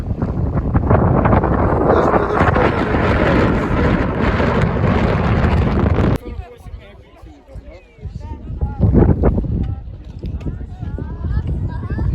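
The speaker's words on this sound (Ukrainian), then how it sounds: "З цієї сторони капець який сильний вітер дує, це просто жах." Strong mountain wind on Hoverla buffets the microphone with loud rumbling gusts, drops briefly, then roars back; people talk faintly amid the blustering.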